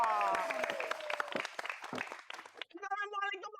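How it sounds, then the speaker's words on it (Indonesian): Audience applause at a comedy stage show, a spread of claps mixed with voices and laughter that thins out, then a short musical tone sounds at the end. "tepuk tangan dong."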